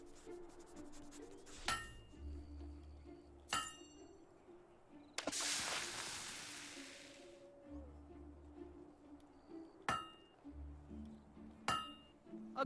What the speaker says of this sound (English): You know how to use a hammer?